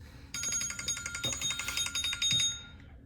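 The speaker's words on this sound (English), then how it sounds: "is that your phone ring?" A phone rings indoors with a rapid, buzzing electronic trill, moderately loud, in one sustained burst of about two seconds.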